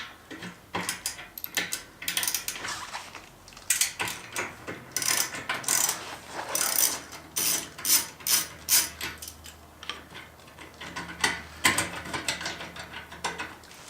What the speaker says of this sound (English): to get this bolt loosened under here, you need a 5/8 inch wrench socket and a deep socket